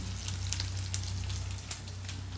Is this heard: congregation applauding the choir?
no